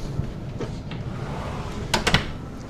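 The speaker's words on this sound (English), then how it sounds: "let me shut the door" A door is pushed shut indoors. Soft shuffling comes first, then a quick cluster of close knocks and a thud near the end.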